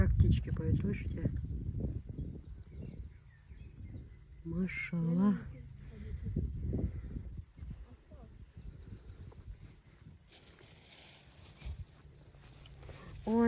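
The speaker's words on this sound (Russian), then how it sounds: "Как птички поют, слышите?" Birds call and sing outdoors in short bursts and chirps spread through the stretch, mixed with people talking nearby and scattered rustling noise.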